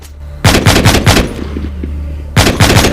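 Gunfire from the mobile zombie game The Walking Zombie 2 rattles out in two loud, rapid automatic bursts, with a brief pause and faint clicks between them.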